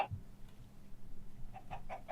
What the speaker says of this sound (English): I heard a chicken poop.